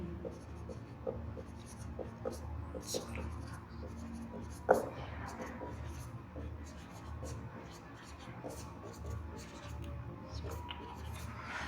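Marker or chalk scratching across a classroom board while linear equations in two variables are written out for a Class 10 maths lesson, with steady close strokes, taps and one sharp knock partway through.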